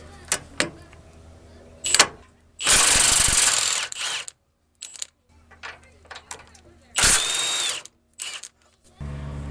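Milwaukee M18 Fuel high-torque impact wrench working a nut on a 2000-2006 Toyota Tundra steering rack bushing job, with a wobble extension: two loud, sustained hammering bursts of a second or more, between scattered clicks and handling noises.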